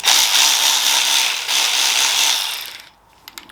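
A Sealey cordless electric ratchet wrench whirs in a steady high buzz for nearly three seconds, briefly dips in the middle, then stops, followed by a few faint clicks.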